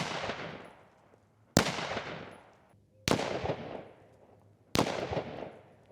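Four unsuppressed rifle shots fired during a suppressor tone test at 15 and 30 yards, each a loud sharp crack with a decaying tail, spaced roughly one and a half seconds apart.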